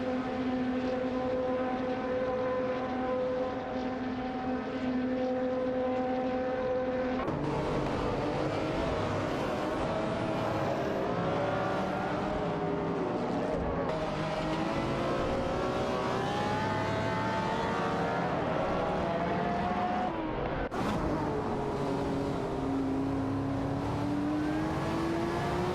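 Race cars, a McLaren F1 GT and an Aston Martin among them, roar in an AI racing video game, their engines droning continuously and loudly, shifting pitch as they accelerate and change gear.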